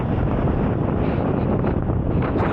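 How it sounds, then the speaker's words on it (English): Strong wind buffets the microphone on an exposed hillside walk, making a loud, continuous rumbling roar with gusty swells and no voices. "Still very windy though."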